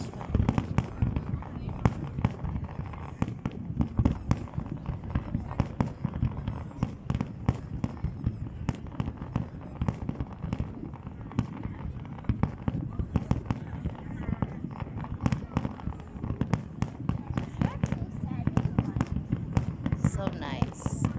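Fireworks crackle and bang over the Corniche in a dense, continuous barrage of sharp pops at mid distance, while people talk throughout.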